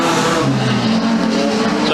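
Production sedan race cars racing on a circuit, with loud engine roar and a rising, shifting pitch as cars pass close by. A race commentator talks over the noise throughout.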